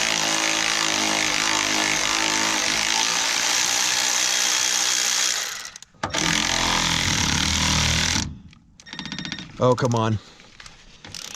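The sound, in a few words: Milwaukee cordless ratchet running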